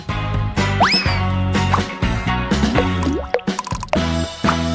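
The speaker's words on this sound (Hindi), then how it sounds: "अब मैं इसमें जिलेटिन लेता हूँ। फिर थोड़ा पानी मिलाऊंगा और बेशक डाई।" Water poured into gelatin with dye makes loud, bubbly drips, plops and gurgling fills in a lively, uneven rhythm, with springy, boing-like tones throughout.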